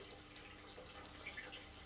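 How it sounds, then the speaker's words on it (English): Fish-tank water being poured onto an indoor potted plant, a soft, continuous trickle and splash of water running into the soil, steady and close throughout. "I'm going to water it like I normally would"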